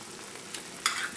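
Fudge mixture is gently stirred in a saucepan, with a soft scrape over a low bubbling simmer, close and quiet, with no talk.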